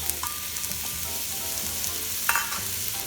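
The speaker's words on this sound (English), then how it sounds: "to this I'm going to add some tomatoes, fresh cut tomatoes" Fresh-cut tomatoes added to onions and garlic sautéing in a pan sizzle in a steady, close crackling hiss, with a few light stirring scrapes and no talking.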